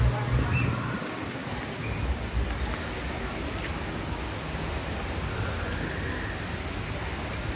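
Rain falls steadily at Animal Kingdom theme park, an even hiss of drops on outdoor surfaces with a slightly louder burst at the start before settling into a continuous patter.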